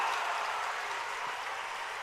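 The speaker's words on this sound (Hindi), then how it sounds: "यही बैठे बैठे जोरदार ताली बजा दो कि दिल्ली तक आपका अभिनंदन पहुंच जाए" Steady, dense applause from a large audience at a yoga guru's speech during the Banjara Kumbh gathering, a continuous wash of clapping at moderate-to-faint level with no voices over it.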